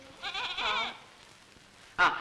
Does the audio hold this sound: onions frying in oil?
no